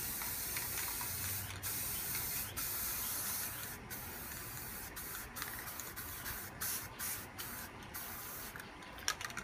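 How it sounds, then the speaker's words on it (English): A spray paint can hisses out black and turquoise paint in a steady, continuous spray, with a few short breaks and faint clicks, close up and with no voices. "Make sure you spray vertical so you don't get underneath that other plate."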